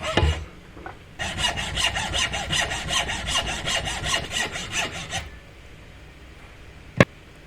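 Close, steady back-and-forth rasping of a hand saw cutting homemade brake pad material held in a vise, about four seconds of rhythmic strokes, then stopping, followed by a single sharp knock.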